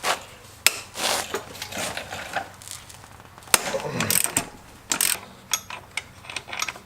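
A ratchet with a 24 mm socket working the rear axle nut of a KLR650 motorcycle, giving close, irregular clicks, clanks and metallic knocks in scattered bursts.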